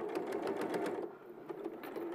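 Sewing machine running in quick rhythmic bursts as it top-stitches fabric, near and steady with a brief slowdown midway, no talk over it.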